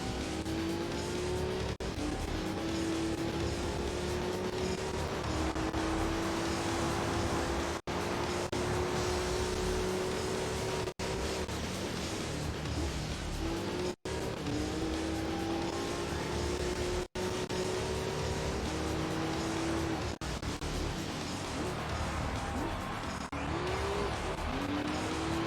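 Race cars in Gran Turismo 3, including a Mitsubishi Evo, with a continuous high engine whine rising through the gears, brief dips at shifts and occasional tire squeal, loud and steady throughout.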